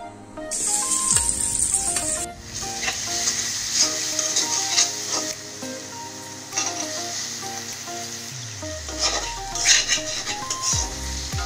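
Oil sizzles in a wok for a minced meat dish, an intermittent close hiss and crackle broken by metallic clinks and scrapes of a utensil against the pan and a few short tonal squeaks.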